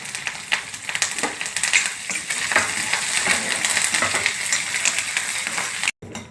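Chana dal, green chilies, onions, peanuts and curry leaves fry in hot oil in a pan with a steady, crackly sizzle. Faint stirring scrapes and pops run through it before the sound cuts off briefly near the end.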